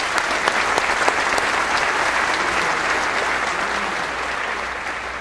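Sustained, dense applause from an audience at an Ellis Island Medals of Honor ceremony, a loud, even roar of many hands that fades slightly toward the end, with no talk over it.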